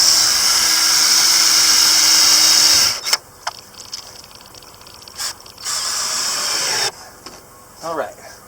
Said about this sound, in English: I'm going to drill through here up into here